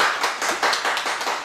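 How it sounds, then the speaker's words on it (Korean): A crowd of parents at an academic math and science information session applauds. The clapping is steady and dense and fills the whole moment, with no talking over it. "큰 박수 부탁드립니다."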